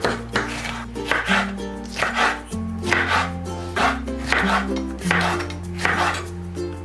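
A knife cuts vegetables into strips on a board, with repeated firm chopping thuds at a steady pace, set against sustained background music tones.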